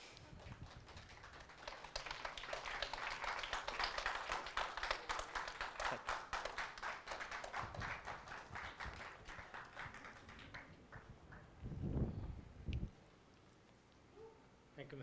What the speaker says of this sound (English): I think all of us must give him a big round of applause.